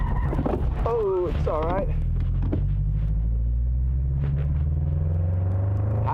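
A drift car on a track rumbles with a steady low engine drone as it clutch-kicks and slides, the engine note rising and falling while a voice briefly talks over it.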